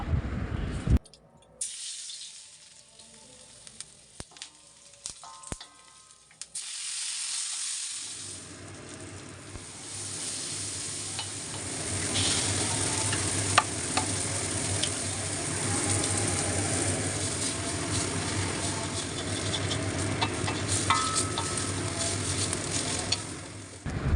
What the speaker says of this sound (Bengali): আজকে একদম সাদামাটা করেই নুডলসটা রান্না করছি